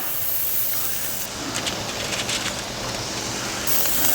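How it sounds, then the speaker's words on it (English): Olive-oiled burger patties sizzle on a grill, a dense continuous hiss with brief crackling spurts, close and steady. "I love the sizzle."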